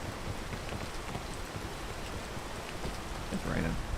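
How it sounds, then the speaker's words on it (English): Steady broadband rain hiss fills a multiplayer video game scene, constant and fairly loud throughout, with a slight swell near the end and faint voice sounds underneath. "It's raining."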